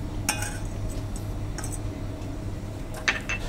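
A saucepan clinks a few times as butter goes in while cooking scallops in cider, giving sharp, brief metallic taps over a low, steady kitchen hum.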